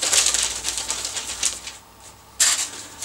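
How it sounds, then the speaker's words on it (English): A sheet of newspaper flapped by hand as a homemade instrument, giving a run of quick papery flutters that pause briefly and then return in a louder burst, heard close. "Here's the newspaper flapper."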